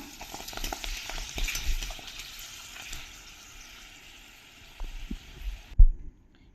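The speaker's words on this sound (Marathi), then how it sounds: "ते असे तळायचे" Nadde kabab fingers, a Nagpur street food, deep-frying in hot oil with a steady broadband sizzle and occasional scraping stirs, louder near the end before the sizzle cuts off abruptly.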